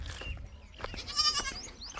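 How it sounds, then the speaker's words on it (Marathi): Goats bleat close by on a farm, several short wavering calls overlapping within two seconds against a low outdoor background. "हे बघा बकऱ्या कशा म्या करतात,"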